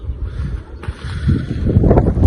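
Strong wind buffets the microphone, rumbling and gusting heavily throughout, growing rougher toward the end.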